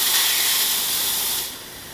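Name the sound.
La Pavoni espresso machine steam wand hissing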